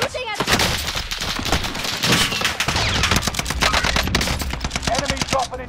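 Rapid video game gunfire in a team combat shooter, dense automatic bursts with sharp repeated shots running almost continuously and loud throughout.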